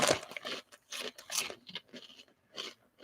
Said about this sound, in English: Sorry if that's too crunchy.